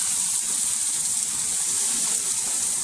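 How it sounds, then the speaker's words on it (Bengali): Steady hiss of water running and splashing as cows are washed on a farm, continuous and fairly close with no talking. "গরুগুলোকে সুন্দর করে গোসল করানো হচ্ছে এবং পরিষ্কার পরিচ্ছন্নতা করে সব কিছু ধুয়ে ফেলানো হচ্ছে"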